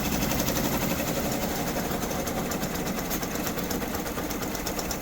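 Brother Entrepreneurship Pro X embroidery machines run continuously, a dense, loud, steady mechanical whir and rapid stitching rattle with no pauses.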